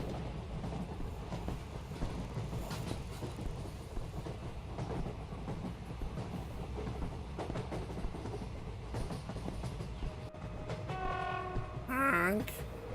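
A train horn sounds briefly near the end over steady rail rumble and clatter in the Anant Express video game. It is fairly loud and has no talk over it.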